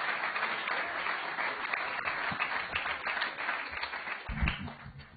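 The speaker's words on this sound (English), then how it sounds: "Another round of applause for Amanda." An audience at a grantee seminar applauds, a dense, even round of clapping that is fairly faint and slightly muffled, with a thump near the end.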